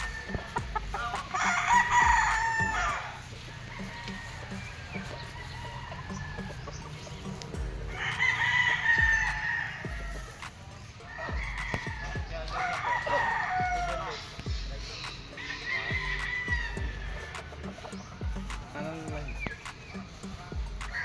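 A gamecock stag of Sweater Boston bloodline crows repeatedly at a game farm, three or four loud close crows spaced several seconds apart, with clucking from other fowl and someone talking in between.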